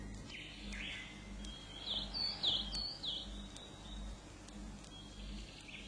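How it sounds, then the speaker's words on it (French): In a quiet spring outdoor setting, small birds give a few faint, high chirps and short tweets at a distance over a low steady background hum. "les oiseaux reprennent leur joyeux gazouillis"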